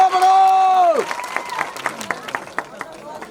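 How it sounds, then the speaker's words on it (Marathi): An audience at a religious celebration ceremony breaks into clapping after a voice's drawn-out call. The clapping then comes in rapid, uneven claps that gradually thin out. "सर्वांना विनंती की टाळ्या वाजून आपण बाबूरावजींचं अभिनंदन करायचं आहे"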